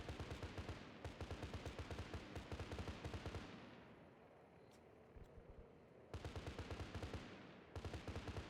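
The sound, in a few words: gunshots in a video game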